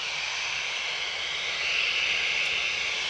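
A British Airways airliner passes overhead near Manchester Airport, a steady, broad engine roar that swells slightly louder partway through, with no talk.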